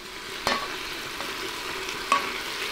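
A spoon stirs beef stew with carrot in a pot, soft scraping and gentle sizzling over a low simmer, with two sharper knocks of the utensil against the pot.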